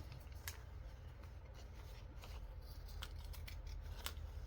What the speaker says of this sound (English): those are my good scissors.